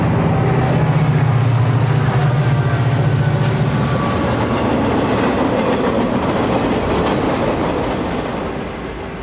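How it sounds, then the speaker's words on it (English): A Tropicana Juice Train freight, Q258, rumbles loudly across a small bridge at a creek near a siding, a steady close roar of clattering wagons with a low engine drone early on, easing slightly toward the end. "It's a peaceful summertime spot, until a train like Q258 blasts across."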